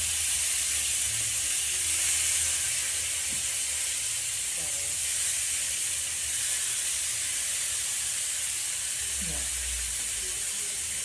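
Jerk chicken sizzles and hisses steadily on a small grill, a constant close, bright frying noise that runs throughout without pause, with faint low rumbles underneath.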